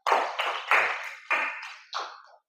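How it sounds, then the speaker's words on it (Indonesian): Applause in a classroom, heard as five distinct, ringing claps in an uneven rhythm, each fairly loud and close and each trailing off before the next. "tepuk tangan dulu untuk Kalista."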